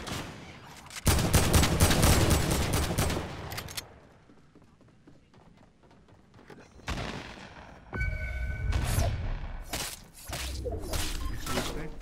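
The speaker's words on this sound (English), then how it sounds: "Now I hear all that shooting." Video game gunfire in loud dense bursts of rapid shooting, a quieter stretch with scattered distant shots, then renewed heavy firing.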